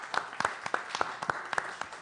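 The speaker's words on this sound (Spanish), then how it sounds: "Vamos a ver cómo están las palmas de los presentes aquí." A small audience at a gathering claps in a steady, evenly spaced rhythm, about ten crisp, moderately loud hand claps over two seconds with nothing else beneath them.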